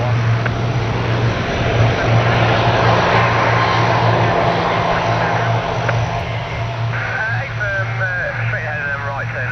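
An RNLAF C-130H-30 Hercules four-engine propeller transport overshooting at Cambridge Airport gives a loud, steady droning roar throughout, with a radio voice talking over it.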